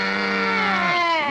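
A human voice imitates a cow, giving one loud, close, sustained moo-like bellow whose pitch slides downward near the end.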